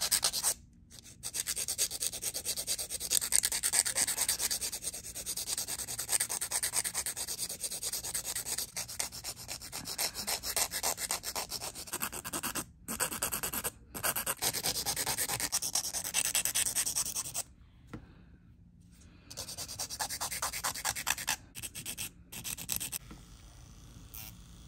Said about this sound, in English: Now we're gonna move on to some quick shaping and filing.